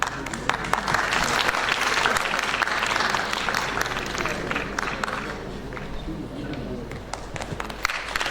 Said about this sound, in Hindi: तालियों के साथ अभिवादन।